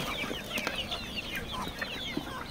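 Chickens cluck and peep busily at close range while feeding on hydroponic green fodder, with short overlapping calls and light pecking rustles throughout.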